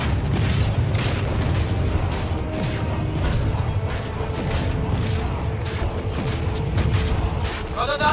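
Turret being destroyed in Star Citizen, a dense run of mechanical clanks, creaks and booming impacts rumbling continuously with scattered pops and crashes.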